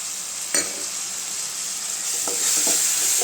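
Onions with ginger garlic paste sizzle steadily in a frying pan for an egg gravy, with a brief spoon scrape early on and a few soft stirring clicks later over the continuous hiss.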